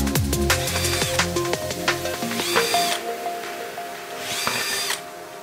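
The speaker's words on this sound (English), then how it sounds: "had to drill them out again" A power drill whines in short bursts and spin-ups, drilling out screw holes, with rising motor tones and clatter between runs, close and loud.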